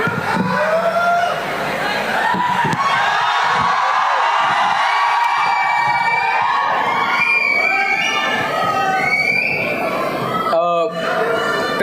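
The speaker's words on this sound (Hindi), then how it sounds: "चलिए खान सर के लिए एक बार जोरदार ताली बजा दीजिए।" A large crowd at a Chhatra Sansad India student event claps, cheers and whoops loudly and continuously, with shouting voices and excited calls rising throughout.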